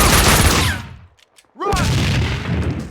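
Loud, dense gunfire and explosive booms in Max Payne 2 cut off abruptly into near silence for about a second, then resume just as heavily with whizzing ricochet-like sweeps.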